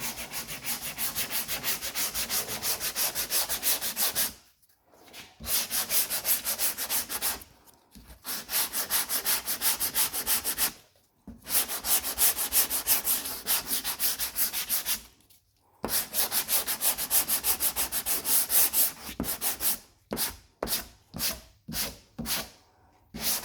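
A round Durablock sanding block rubs back and forth over the body of a '55 Pontiac hotrod, steady close scraping strokes broken by short pauses, then a quicker run of brief strokes near the end.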